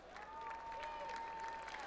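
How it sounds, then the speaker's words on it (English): Crowd applause at a high school football game honoring band seniors, a steady wash of distant clapping across the stands with a sustained tone running beneath it. "Please give our band seniors one more round of applause."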